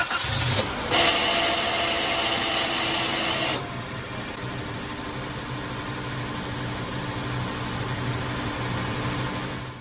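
A car engine cranks and catches after a loose bolt was tightened. It runs loud and rough for a few seconds, then settles into a steady, close idle that continues alone.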